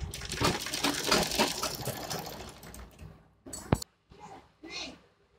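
Sewing machine stitching pleats into a salwar, a fast continuous whir for about three seconds, then short stop-start bursts, heard close and without talk.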